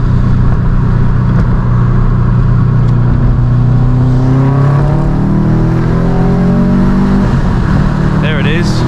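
A 2007 Subaru WRX STI with a built motor accelerates hard through a corner, engine note loud and close from inside the cabin, rising in pitch across several gear-held sweeps with tire and wind noise.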